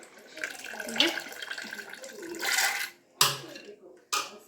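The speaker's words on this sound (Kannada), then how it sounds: "ಈ ರೀತಿ ಜಾಲರೆನಲ್ಲಿ ಕಡಲೆಬೇಳೆನ ಎತ್ತಾ ಇದ್ದೀನಿ ನೋಡಿ" Soaked chana dal being scooped out of water with a strainer during catering breakfast prep, giving sloshing, trickling water and draining sounds close by, interrupted by a couple of sharp clatters and brief gaps, with someone speaking over it.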